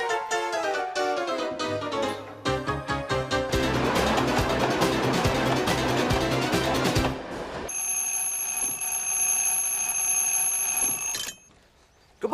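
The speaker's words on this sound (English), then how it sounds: "don't forget to set your alarm nice and early." An alarm clock rings loudly in a comedy sitcom bedroom scene, first a rapid clattering bell, then a steady electronic beeping tone that cuts off near the end.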